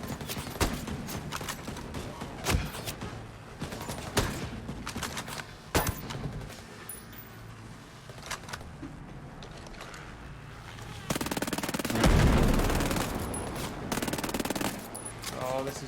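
Gunfire in the tactical shooter Ghost Recon Breakpoint, with bursts of shots scattered through the stretch and a heavier, denser volley of fire near the end, set against game ambience and with talk over the top.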